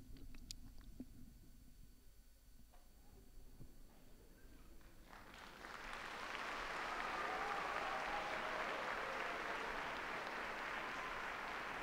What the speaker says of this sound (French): Avec ces applaudissements donc de ces pèlerins, de ces fidèles.